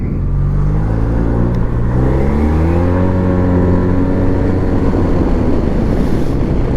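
A car engine rumbles loudly nearby, its pitch rising and falling as it passes close to a Maxsym 508 scooter riding near Manchester at night, over steady road and wind noise.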